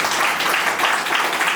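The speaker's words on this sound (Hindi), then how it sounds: "कम से कम हम सर का स्वागत तालियों से करें" Seminar audience welcoming a speaker with steady, loud applause, a dense wash of many clapping hands filling the whole short stretch.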